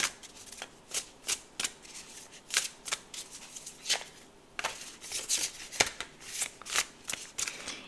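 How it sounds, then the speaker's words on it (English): Close-up riffling of a tarot card deck, repeated crisp flutters in a quick irregular rhythm with short pauses between shuffles. "I was shuffling the cards and they were all over the place"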